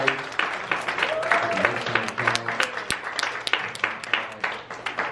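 Applause from a church congregation fills the room, many hands clapping in a dense, sustained patter that swells and fades slightly.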